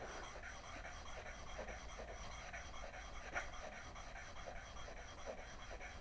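The back of a steel woodworking chisel is rubbed flat on a sharpening surface, a quiet, steady rasping scrub in regular back-and-forth strokes, close and faint, with no talk.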